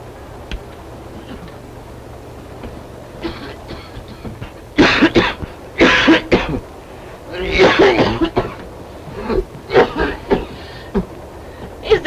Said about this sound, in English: Can you hear that poor man coughing?